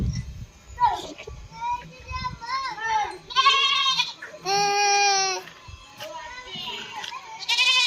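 Goats tied up inside a house let out loud, wavering bleats, several in a row, while young boys chatter and call around them nearby.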